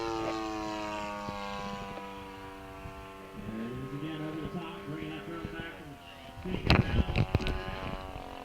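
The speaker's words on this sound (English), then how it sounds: "this aircraft does have a cruise speed of 90 miles an hour" A small propeller aircraft performs rolls and climbs at an airport fundraiser airshow, its engine holding a steady droning tone overhead before fading, with a voice talking over it and a burst of nearby rustling and wind near the end.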